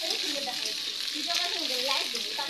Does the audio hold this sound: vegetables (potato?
yes